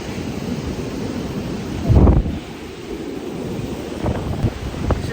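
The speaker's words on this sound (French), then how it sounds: "Le vent est un peu capricieux, il y a des grains, il y a de la pluie." Gusty wind at a rainy shoreline with squalls, a steady roar with a stronger gust burst near the middle and a few smaller gusts later, alone with no talk.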